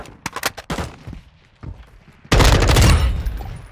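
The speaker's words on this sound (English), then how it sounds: "Take some shots at range. This is an M4 built for movement and ADS speed." M4 rifle firing in Modern Warfare 2, built for movement and ADS speed: a few sharp separated shots at range, then a loud sustained rapid burst of automatic fire.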